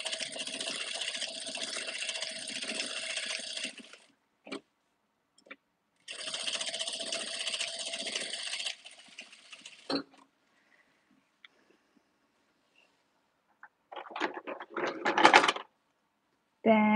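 A sewing machine stitches elastic for a tutu in two loud, steady bursts of whirring, with short clicks between them and a brief rustle of fabric handling near the end.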